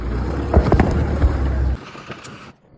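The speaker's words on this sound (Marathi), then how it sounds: "गाडी निघाली." A car setting off and driving on a road in Jaipur at night: a steady low rumble of engine and road noise with wind buffeting the microphone, easing off after a couple of seconds before cutting out.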